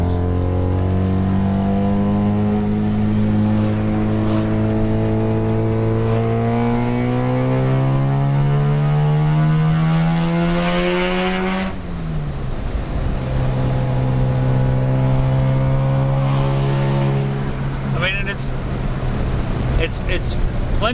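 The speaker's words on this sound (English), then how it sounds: "That rotary noise, I don't know, it just does something." Mazda RX3 with a 12A rotary engine revving up with a rising, smooth buzzy drone, then dropping and holding a steadier note, loud and close, with people talking over it.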